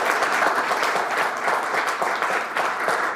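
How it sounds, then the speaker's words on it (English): An audience at an annual general meeting gives a round of applause, dense steady clapping from many people, close and loud, lasting the whole stretch with no voices over it. "So please, a great round of applause for these 2 gentlemen."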